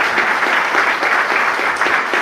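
Church congregation applauding during a worship service, a steady, dense roar of many hands clapping that fills the space without pause.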